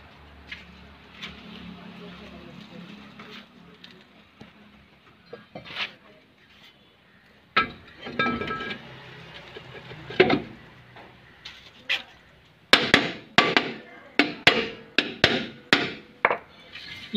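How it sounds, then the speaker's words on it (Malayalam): Brake drum being fitted onto the rear axle of a Mahindra Bolero: scattered metallic knocks early on, then a fast series of sharp hammer blows near the end, close up, with faint talk underneath. "ഇനി നമുക്ക് ഡ്രമ്മ് കയറ്റിയിടാം."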